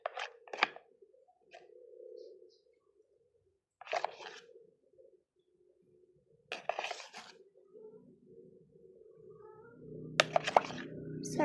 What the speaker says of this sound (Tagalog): Sorry guys, it's just my cat.